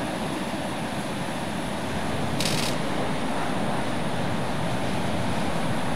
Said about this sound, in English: Now we have a fully operational jet fighter.